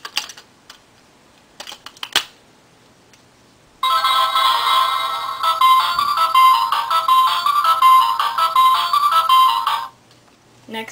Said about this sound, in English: Next we have the Blue Box Chibiusa wand, which because Chibiusa is not nearly as cool as Usagi, she only gets one sound.